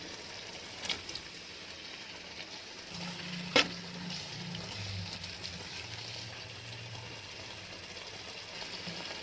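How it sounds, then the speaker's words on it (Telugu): Mushrooms and yogurt cooking in a pan for mushroom biryani, giving a low continuous sizzle and bubbling with a sharp utensil clink near the start and soft stirring sounds, no talking. "ఇప్పుడు మష్రూమ్ అయితే వేస్తున్నాము"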